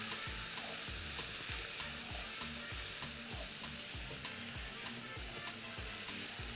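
Onion and spices toast in a hot pan, giving off a steady close sizzle broken by regular scraping knocks as a utensil stirs them, with no voices.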